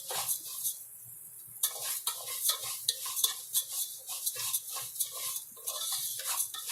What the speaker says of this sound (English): And we're going to stir it.